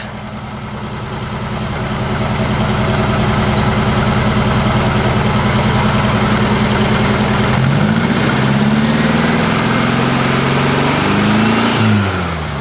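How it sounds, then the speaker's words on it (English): An old 1956 VW Beetle engine, timing set too far advanced, idles steadily and then is revved up, the loud mechanical drone climbing in pitch and holding high before dropping back near the end. "Let's go ahead and rev it up and see what we get."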